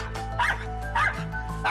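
An angry Schnauzer barks at strangers who have come into the home, giving three sharp, close barks at a quick, even rhythm over a steady low background hum.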